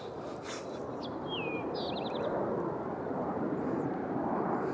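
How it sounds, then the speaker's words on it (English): An Aer Lingus airliner rumbles steadily with a broad jet roar at Nashville International Airport in the evening, while a few brief bird chirps sound faintly over it. "So here goes Aer Lingus as they prepare to head back to Dublin"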